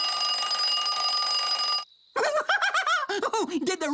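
A cartoon alarm clock rings loudly in a continuous metallic jangle for nearly two seconds, then stops, followed by a character's animated, laughing voice speaking.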